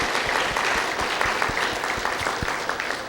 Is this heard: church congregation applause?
yes